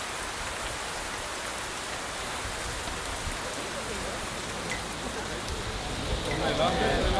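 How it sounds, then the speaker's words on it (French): Heavy rain pouring down in Cannes, a steady dense hiss of rainfall on surfaces, fairly soft and continuous, growing slightly louder toward the end. "il pleut genre des cordes"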